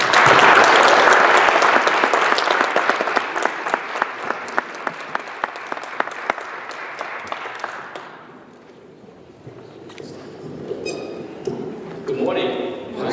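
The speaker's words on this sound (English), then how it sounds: "let's give them a warm round of applause" A lobby day audience claps loudly and steadily for several seconds, the applause thinning into scattered claps and fading out, followed by quieter room sounds.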